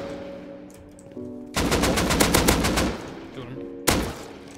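A loud, close burst of rapid gunfire in the survival game Rust lasts over a second, followed by one more sharp shot. A steady tonal hum sits underneath, and a voice comes in faintly.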